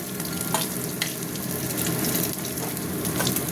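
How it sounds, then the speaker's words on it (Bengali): Three khoira fish fry in hot oil, a dense, steady sizzle with occasional sharper pops and crackles, close and continuous, with no talking. "ভাজা হচ্ছে থাক দেখতে পাচ্ছ তিনটে মাছ দিয়ে দিয়েছি"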